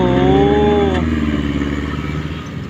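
A loud tractor engine runs up close with a steady chugging rumble, its pitch dropping slightly as it settles into an idle.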